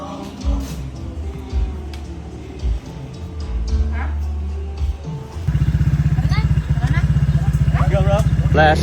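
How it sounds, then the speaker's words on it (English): A solar-powered bike starts up and pulls away, its steady motor drone rising into a loud, continuous rumble over background chatter and street noise. "Blasting off on the solar bike."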